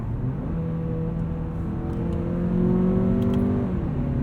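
A 2019 Mazda3 AWD sedan with the Premium Package accelerating from inside the cabin, its engine drone rising steadily in pitch and then dropping as the transmission shifts, over constant road and wind noise.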